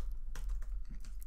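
Computer keyboard typing while coding a React and TypeScript typing speed game: a handful of sharp, separate keystrokes, close and clear, over a low steady hum with no talk.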